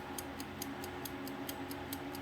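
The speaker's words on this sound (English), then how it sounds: "Yep, standard toaster oven click" A salvaged toaster oven timer switch, wired to a 9-volt battery, ticks in a steady, even rhythm of about four clicks per second over a faint hum, close and fairly quiet with no talking.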